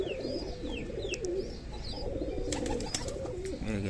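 Pigeons in a rooftop loft coo in soft, repeated throaty calls, with light chirps and fluttery rustling over a busy outdoor background.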